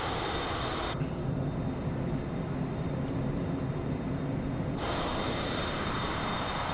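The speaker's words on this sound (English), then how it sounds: "I am just trying to get this aircraft on the ground at the moment." A Cessna Citation CJ4 jet comes in to land in a flight simulator, giving a steady engine and airflow roar that drops away for a few seconds and then returns at the same level.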